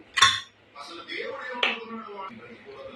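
A metal pressure cooker lid clanks sharply as it is opened, with a second clink and light rattling after, while someone talks nearby.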